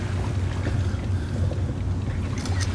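An old fishing boat heads out to sea, its engine throbbing with a steady low drone under wind and water noise, continuous and fairly loud close by.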